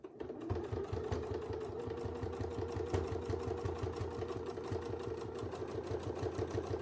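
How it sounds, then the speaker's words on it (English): Sewing machine stitching around a circle on a quilt, a rapid, even mechanical chatter of needle strokes running steadily close by for several seconds, no voices. "I'm going to sew around this so that I can get that circle"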